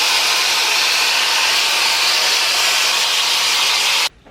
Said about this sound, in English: then I'll start shaking the diffuser through my curls